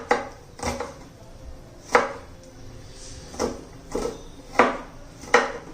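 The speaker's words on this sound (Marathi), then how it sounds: "आपला कांदा चिरून झालेला आहे." Knife chopping onion on a board in a home kitchen, six or seven separate cuts spaced about a second apart, crisp and close, with quiet pauses between them.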